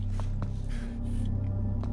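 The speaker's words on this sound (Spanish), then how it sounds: "Oigo respiración. Respiraciones ajenas." Heavy, close breathing from other characters in the horror game Condemned: Criminal Origins, with a few short sharp inhales and snorts over a low ambient hum.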